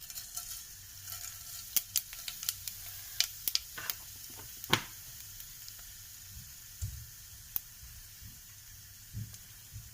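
Cumin seeds hit hot oil for Maharashtrian besan kadhi and sizzle softly, with scattered sharp crackles and pops over a steady faint hiss, no voices.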